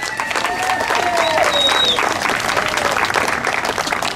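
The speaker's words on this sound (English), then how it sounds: "Another round of applause, please." A hometown crowd at a Texas town football gathering gives loud, sustained applause with a few whistles and voices mixed in.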